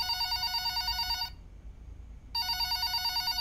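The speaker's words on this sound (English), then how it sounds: "the phone's ringing" A telephone rings inside an indie horror game, two bursts of a bright electronic bell with a one-second silent gap between them, loud and clear over faint low background hum, with no talking.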